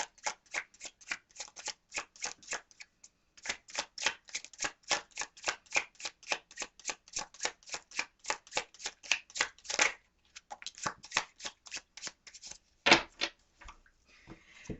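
Oracle message cards being shuffled by hand, a close, rapid run of crisp riffling flicks in quick bursts with short pauses between, no talking.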